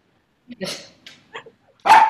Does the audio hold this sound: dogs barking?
yes